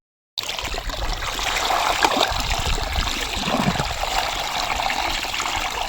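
Water gushes steadily from a borewell, a close, continuous rushing and splashing flow that starts abruptly after a brief silence and keeps up without a break.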